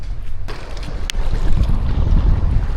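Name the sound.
strong wind at the seaside while fishing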